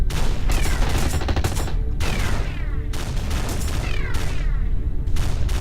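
Ship weapons and torpedoes firing in the space combat game Praedan Horizon: a dense, continuous barrage of booming shots and crackling blasts with whooshing launches, loud and sustained throughout with no talking.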